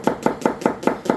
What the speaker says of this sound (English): is just give them a quick simple chop